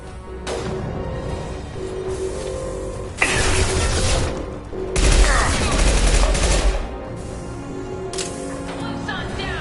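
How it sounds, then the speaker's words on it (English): Heavy gunfire erupts in the Mass Effect 2 video game, with bursts of rapid automatic shots and sharp cracks coming in clusters over a busy, rumbling battle backdrop, loud and close. "Taking fire."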